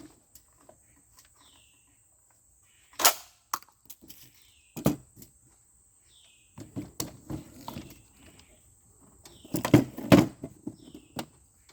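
Several sharp semi-automatic gunshots ring out outdoors, spaced a few seconds apart with quieter moments between, over faint birds and insects and a steady high electronic whine, with no talking.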